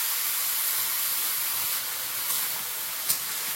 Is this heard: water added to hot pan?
yes